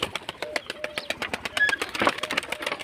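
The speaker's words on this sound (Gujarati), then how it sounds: "કબૂતર આવી ગયા છે" Pigeons coo and shuffle nearby, soft repeated calls mixed with wing flutters and light scratchy movement in a loft.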